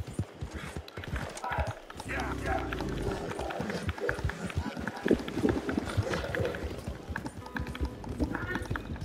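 Horse hooves clip-clop at a quick run in Red Dead Redemption 2, a rapid, uneven patter of hoofbeats mixed with other game sounds while a person talks over them.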